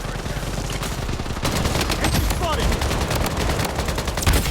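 Rapid bursts of gunfire from the video game Blood Strike, loud and close, crackling repeatedly in dense fusillades while a player talks over the shooting.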